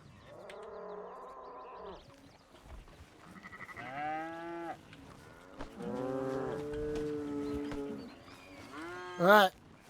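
Cattle mooing in a farming and ranching role-play game, several drawn-out harmonic calls in sequence with a higher bleat-like cry at the end, fairly loud and close with no talk over them.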